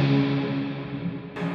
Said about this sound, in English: I've got, as I was saying, the Big Sky reverb on the swell setting.